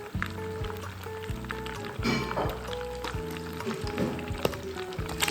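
A sauce of brown sugar, soy sauce and oil hits a hot frying pan, sizzling under clinks and scrapes of the pan, with a low hum steady throughout.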